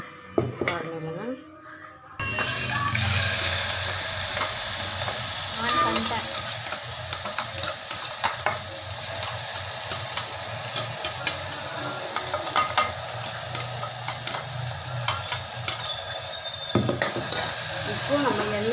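Masala sizzles and fries in hot oil for a Tamil mukkala kulambu as it is stirred and mixed, a steady crackling hiss with scraping stirs, starting after a brief quiet moment.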